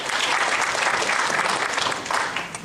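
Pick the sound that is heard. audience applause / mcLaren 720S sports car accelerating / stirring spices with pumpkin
audience applause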